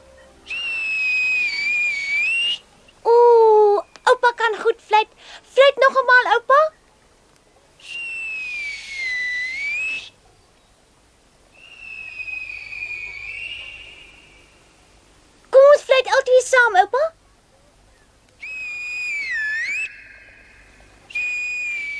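A person whistles a series of clear, close tones in separate phrases: some long held notes, some fast trilling runs and sliding pitches, with short silences between.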